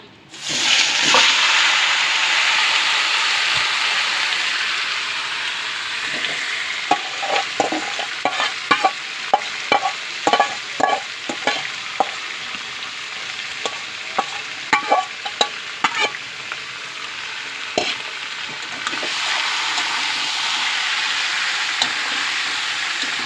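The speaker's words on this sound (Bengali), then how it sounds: "এই যে মাংসটা মশলা মাখিয়ে রেখেছিলাম, আধ ঘন্টা হয়ে গেছে, এবার তুলে দেবো" Spice-marinated chicken hits hot oil in a pan for a chicken curry, giving a loud steady sizzle with rapid clacking of a spoon stirring through the middle stretch, then the frying hiss swells again on its own.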